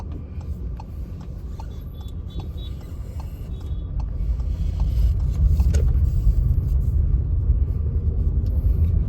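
A VW or Skoda car running in two-cylinder mode with Active Cylinder Technology, engine rumbling steadily from inside the cabin as it makes a U-turn, growing slightly louder midway with no talk.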